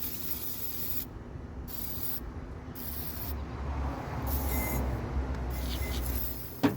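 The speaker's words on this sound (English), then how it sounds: "So spray everything that looks like it's something that could potentially move that's not doing so." A continuous hiss of an aerosol spray close by, applied to parts of a rare GM truck, interrupted by a few brief pauses between bursts, ending with a small click.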